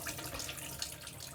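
Water pours and splashes steadily as it drains off chickpeas in a home kitchen without a sieve, a continuous close rushing trickle lasting just over a second with no voices.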